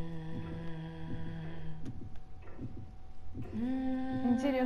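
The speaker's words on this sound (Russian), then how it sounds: "У нее сердце бьется" A heartbeat throbs in the horror video game Little Nightmares. A low, steady pulse of repeated thumps sits under a droning hum and eerie tonal music.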